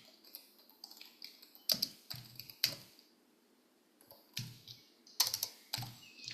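Keyboard shortcuts tapped out on a computer keyboard in short irregular bursts of crisp, close clicks and key presses, with quiet pauses between the groups.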